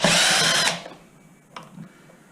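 A power drill spins out a screw holding the gearbox of a Zip X5, giving a loud, brief high whir that cuts off, followed by a couple of small clicks of the part being handled.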